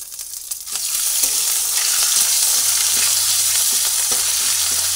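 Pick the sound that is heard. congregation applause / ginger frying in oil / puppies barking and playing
ginger frying in oil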